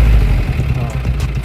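A truck engine runs loud and close during a driving lesson, its rough low rumble wavering as the vehicle moves off.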